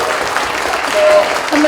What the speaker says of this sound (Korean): 오늘 이 10층을 통째로 무료로 내주신 이문영 대표님께 감사의 박수 부탁드립니다.